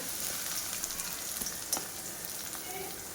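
Vegetables sizzling steadily in hot oil over full flame with ginger-garlic paste and onion, a continuous bright frying hiss with faint stirring clicks and no voices.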